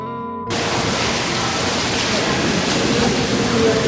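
Steady, dense rush of running water pouring through a pipe to rinse pig intestines at a market, loud and continuous after a brief quiet start.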